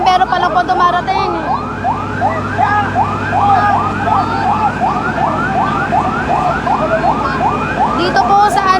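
A fire truck siren wails loud and close as it arrives at a house fire in a Las Piñas City subdivision, cycling steadily through repeated rising sweeps for the whole stretch over a constant engine rumble.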